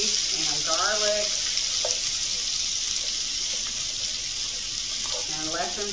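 Fresh green beans, about a pound, sizzling in bacon grease and garlic in a pan, a steady close frying hiss throughout with a few brief tonal sounds that could be voice or utensil.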